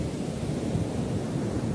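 Strong wind buffets the microphone at the seashore by Sartanpar port, a dense low roar of gusts and surf blending into one steady, close rumble with no voices.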